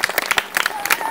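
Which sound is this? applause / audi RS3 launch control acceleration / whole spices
applause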